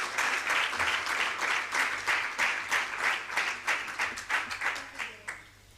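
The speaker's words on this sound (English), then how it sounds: "Let's welcome Councillor Neoma Sekela with a warm round of applause." Audience applause at a local government members assembly, a crowd clapping in a steady burst of overlapping claps that thins out and fades near the end, fairly distant in a hall.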